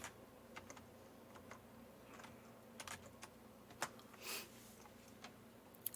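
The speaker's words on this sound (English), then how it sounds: "I'm going to type in valve lifter replacement" Someone types a search on a computer keyboard, with scattered soft clicks and a few sharper taps over quiet room tone, no voices.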